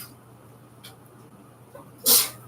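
A single sharp sneeze bursts out near the end after quiet room tone, loud and close.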